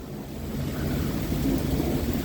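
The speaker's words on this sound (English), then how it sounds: "Thunder's rolling." Low rumbling thunder rolls steadily through a large storm with rain, a continuous deep roar that swells slightly and holds loud throughout with no talking.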